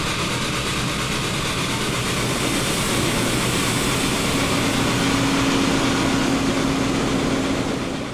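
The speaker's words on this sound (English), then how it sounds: "The 1086 is out on the high iron for a short 6-mile break-in run eastbound to Mount Union." P&B Pacific steam locomotive No. 1086 runs eastbound on the main line during a short break-in run toward Mount Union. A steady, loud, close rumble and rush continues throughout, with a faint sustained tone rising partway through.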